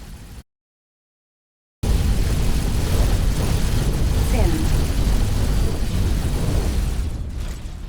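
Space fleet battle explosions rumble in the video game X4 Foundations, a continuous loud roar of booms and blasts that starts after a brief silence and holds steady throughout.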